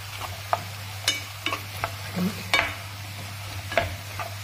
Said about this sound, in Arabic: ونخلي هاد البصله هنا تقلى لنا مليح